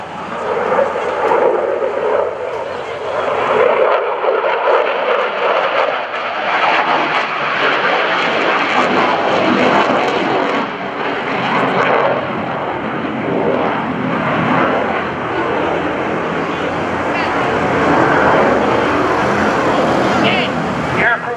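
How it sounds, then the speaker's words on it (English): An F/A-18F Super Hornet jet flies a demonstration at the 2014 NAS Oceana airshow. Its engines give a loud, continuous roar that swells and fades as it passes, with an announcer talking throughout. "Approaching show center at 350 miles an hour, Fonda will pull the aircraft into the vertical and roll the canopy toward you."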